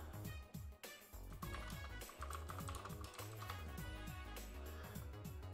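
Someone types on a computer keyboard, making a quick, uneven run of close clicks and taps over rhythmic background music.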